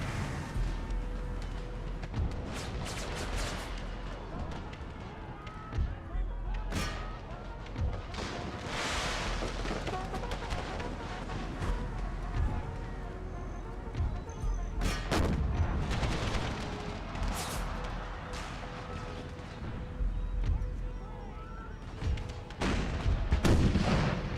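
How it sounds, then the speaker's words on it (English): Artillery fire in Empire: Total War with the Brothers vs. Brothers mod, a battlefield of repeated booming cannon shots and scattered gunfire, some near and loud, others distant, over a continuous rumbling din. "That's a stream of artillery right there."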